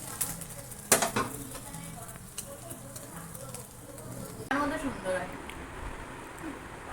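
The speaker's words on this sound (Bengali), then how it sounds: "এটা দেখো পুরো শ্যালো ফ্রাই বেশি তেল লাগে না দেখো একদম শ্যালো ফ্রাই" Food shallow-fries in a pan with little oil, giving a soft sizzle with occasional utensil clinks and scrapes while people talk over it.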